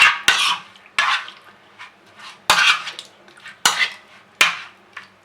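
Fish such as bhetki being stirred by hand or spoon with mustard oil and spices in a metal bowl, giving several distinct clattering strokes with brief wet scraping between them, close and fairly loud, with no talking.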